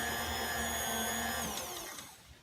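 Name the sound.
electric mixer mixing carrot cake batter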